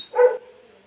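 One short, fairly loud bark from a dog indoors, heard alone and close, cutting off quickly into near silence.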